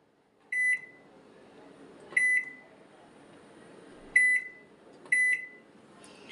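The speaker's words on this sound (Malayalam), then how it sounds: "ഇനി ഞാനിപ്പോൾ ഒരു 25 മിനിറ്റാണ് വെക്കുന്നത് കേട്ടോ." Four short beeping key presses on a microwave oven as it is set to 180 degrees for 25 minutes, spaced apart over a quiet background hum, close and clear.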